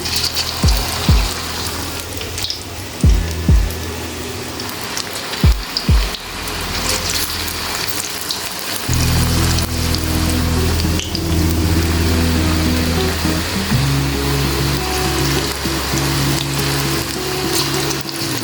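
Spinach and potato pakoras go into hot oil a little at a time, halwai style. A few dull thumps and drips come first, then a loud, steady bubbling sizzle fills the rest of the clip.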